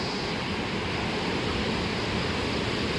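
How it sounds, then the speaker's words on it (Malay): Steady broadband rush of the river at Chor River Campsite in Sahom, a continuous close wash of flowing water with no break or voice. "Ini sungai lah."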